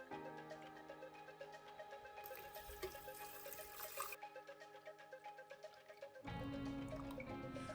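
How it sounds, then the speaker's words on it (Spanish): Water trickles and pours into the tanks of a homemade potassium hydroxide electrolyzer, soft dripping and filling sounds that swell into a louder steady gush near the end. "Llenamos ambos depósitos dejando siempre una porción de aire sin llenar."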